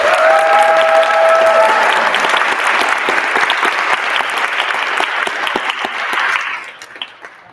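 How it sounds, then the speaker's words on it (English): Loud, sustained applause from a large audience at a community assembly on gender-affirming health care, with a few whistles near the start, dense clapping throughout, then thinning out over the last second. "need to give really a large round of applause for Kristyn Wong-Tam"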